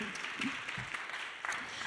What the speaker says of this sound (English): yes, do applaud